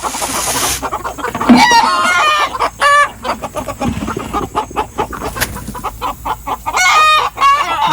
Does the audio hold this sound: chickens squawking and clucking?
yes